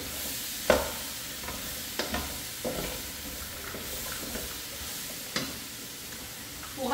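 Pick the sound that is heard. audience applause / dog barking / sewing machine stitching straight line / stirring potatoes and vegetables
stirring potatoes and vegetables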